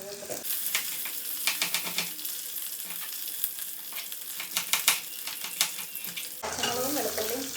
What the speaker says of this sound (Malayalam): പച്ചമുളകും വെളുത്തുള്ളിയും കറിവേപ്പില ഒരുവിധം വഴറ്റില്ല